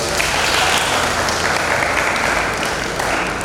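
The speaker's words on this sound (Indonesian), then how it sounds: "Kasih tepuk tangan dulu." A school audience at a traffic-ethics talk claps together in loud, sustained applause that fills the room evenly from start to finish.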